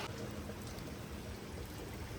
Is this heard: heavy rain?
yes